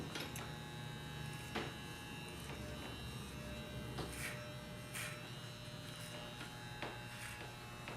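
Electric shaver running over a face, a steady low buzzing hum with intermittent brief scratchy bursts as it passes across the skin, faint and close with no talk.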